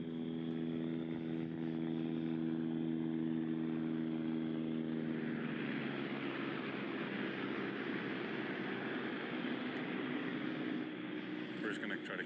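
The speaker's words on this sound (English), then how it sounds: "You hear that helicopter?" A helicopter flies overhead, its steady low engine drone giving way to a loud, continuous broadband rotor wash that fills the whole stretch. Faint voices sit underneath.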